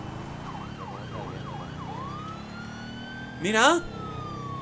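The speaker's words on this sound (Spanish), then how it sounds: "¡Que está el vehículo de la policía!" A police vehicle siren in GTA V Online wails in rising and falling sweeps, followed by a short, louder yelp burst near the end, all under steady game engine noise with a brief shouted exclamation.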